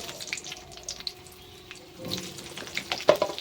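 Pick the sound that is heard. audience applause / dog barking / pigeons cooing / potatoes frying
potatoes frying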